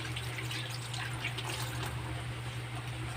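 Tap water runs steadily into a kitchen sink for dishwashing during home cooking, a continuous close trickle and splash with a low appliance hum beneath.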